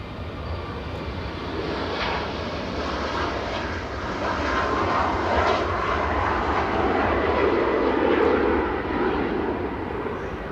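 A Ryanair Boeing 737 Max 8-200 operated by Malta Air takes off from Manchester Airport, a loud continuous jet roar that swells gradually over several seconds, with no voices.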